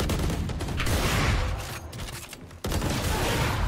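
Rapid gunfire in the tactical shooter Valorant, dense bursts that dip briefly then resume abruptly and loud, with no voices over it.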